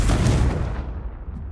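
A Confringo fire spell blasts off in Hogwarts Legacy with a single loud, booming impact up close, its roar quickly tapering into a dull rumbling tail, with no voices.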